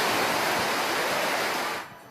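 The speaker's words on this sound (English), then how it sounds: "the staircase behind me is now basically a waterfall." Floodwater pours down an outdoor staircase in a typhoon, a loud, steady, broadband rushing roar close by that drops away abruptly near the end.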